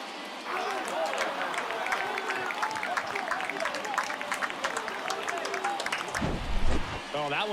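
Stadium crowd in MLB The Show 23 roars after a home run at an Oakland Athletics versus Boston Red Sox game, a sustained distant wash of cheering and clapping under a commentator's voice, fading near the end.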